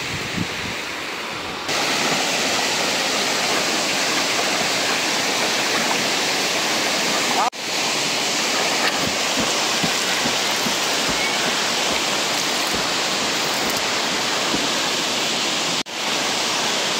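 Water pours loudly and continuously at Kothapalli waterfall, a broad, steady roar close by, with brief breaks in the recording but no talking.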